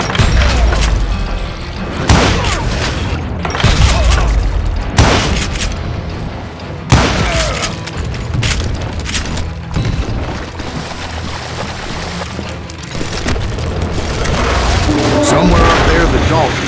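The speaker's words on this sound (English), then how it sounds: "a fusillade of bullets come raining down from on high" Dense fusillade of gunfire and heavy booms in the Western shooter video game Call of Juarez Gunslinger, loud, continuous volleys of shots and thuds under game music and voices.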